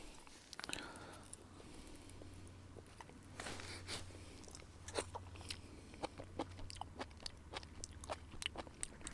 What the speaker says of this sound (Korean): 관자 먹어보겠습니다.